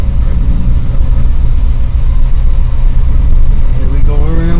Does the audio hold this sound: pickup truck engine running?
yes